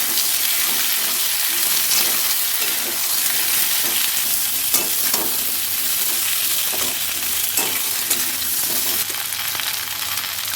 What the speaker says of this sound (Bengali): হালকা করে আমি সিম আলুটাকে এখন আবারও ভেজে নিচ্ছি।